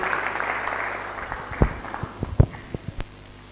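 Applause for Jesus at a church gathering: a broad wash of hands clapping that fades into a few loud, scattered claps near the end, with no talk over it.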